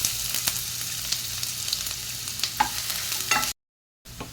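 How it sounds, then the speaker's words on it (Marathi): Chopped onion fries in hot soybean oil in a pan, giving a steady close sizzle with occasional stirring scrapes, then a brief silent gap before the frying resumes. "त्याच्यामध्ये आता मी हा कांदा घालते भाजण्यासाठी"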